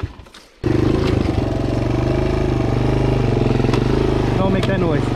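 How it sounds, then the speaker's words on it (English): A Suzuki DRZ motorcycle engine runs loud and close with a rough, sputtering idle and uneven revving after a brief quieter start, a bad noise like a failing stator, while riding through a river bed. "The last time my bike made that noise, the stator was completely destroyed."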